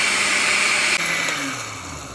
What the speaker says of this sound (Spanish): Tapar y licuar muy bien. Licuar por 4 minutos.